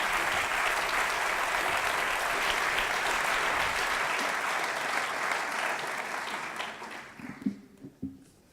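Sustained audience applause fills the hall at a ceremony in Yverdon-les-Bains honouring Cesla Amarelle, a dense steady clapping that thins into a few scattered claps as it fades out.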